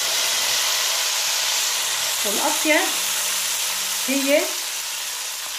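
Hot fat is poured over a dish of stuffed zucchini in yogurt, giving a steady close hiss of sizzling with a couple of brief sputtering bursts, while a voice speaks briefly over it.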